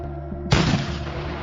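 A single cannon blast, loud and close, bursting suddenly out of a low background rumble and trailing off into a long, broad roar.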